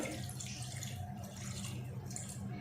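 Water pours steadily into a cooking pot over half a kilo of boneless mutton set to boil, a continuous soft splashing trickle with no talk.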